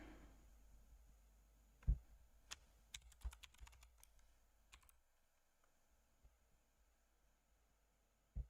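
Keys clatter on a computer keyboard in short, faint bursts of typing, mostly in the middle of the stretch, against a low background hum with no speech.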